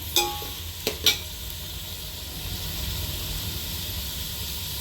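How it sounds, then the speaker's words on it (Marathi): Onions and garlic stirred and fried in a pan for a dhaba-style whole masoor dal, a steady broadband sizzle with a few sharp spatula scrapes near the start, then continuous frying hiss. "कांदा एकसारखा हलवत राहायचा आहे। एकदम तांबूस होईपर्यंत भाजून घ्यायचा आहे।"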